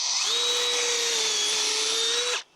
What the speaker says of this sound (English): I'm just going to go through, drill through those holes